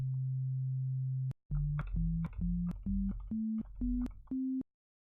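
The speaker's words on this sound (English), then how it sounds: "So we're expecting a sine wave." A software synthesizer plays pure sine-wave notes: a steady held tone, then a run of short, clean notes that step upward in pitch one after another, each clearly separated and evenly loud.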